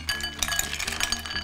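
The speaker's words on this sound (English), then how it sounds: "then you mix these ice cubes until they're melted" Ice cubes stirred into dissolved Jell-O mix, making quick, irregular clinks and knocks against the bowl, close and fairly soft with a steady swirling rhythm and no talk.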